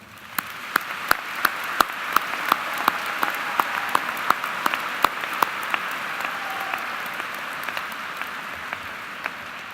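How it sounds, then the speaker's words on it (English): Graduates at a spring university commencement ceremony applaud with sparse, scattered claps, individual sharp hand claps standing out over a soft, steady wash of clapping in a large hall throughout. "please join me in giving them a round of applause"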